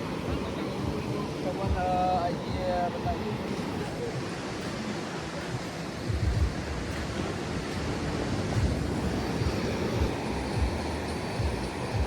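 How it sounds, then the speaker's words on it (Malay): Big ocean waves break along the shore at Padang, Indonesia, at night as a continuous wash of surf with swelling crashes, moderately distant, with faint voices in the background. "Tengok ombak dia besar."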